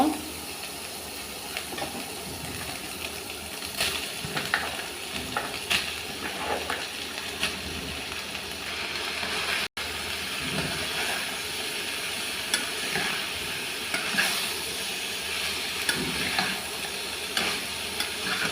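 Chicken and vegetables sizzle and hiss in a hot pan for Chinese-style creamy mixed vegetables, a steady close frying noise with occasional stirring scrapes throughout.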